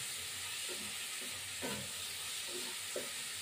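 Tilapia frying with drumsticks and poppy seed as water goes into the pan, giving a steady hiss and sizzle with a few soft bubbling bursts and light stirring, fairly quiet and continuous with no voices.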